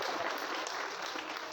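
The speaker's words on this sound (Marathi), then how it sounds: "वाजवा ना मोकळ्या मनात टाळी" Audience clapping steadily at a Marathi kirtan, a dense continuous patter of many hands that fills the whole short stretch with no voices over it.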